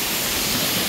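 A strong water current rushing at Pagsanjan Falls in Laguna: a loud, dense, unbroken roar of churning water, very close and filling the whole moment, with no voices.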